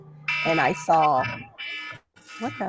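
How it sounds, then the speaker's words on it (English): A wake-up alarm goes off with a steady, shrill electronic tone that sounds repeatedly while a person talks over it. "That was my alarm."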